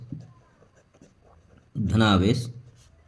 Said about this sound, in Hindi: हेडिंग में लिख लेते हैं धनावेश